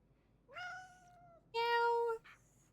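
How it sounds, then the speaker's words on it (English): A cat meows twice in the video game Indiana Jones and the Great Circle: first a drawn-out mew, then a louder, brighter meow with a brief chirp after it; clear and close, with no talking over it. "Why's the cat meowing at me?"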